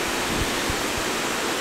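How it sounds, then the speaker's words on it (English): A small winter waterfall cascades between rocks, giving a steady, dense rush of water that stays even and fairly close throughout, with no voices. "there's a nice little cascade coming down between those rocks"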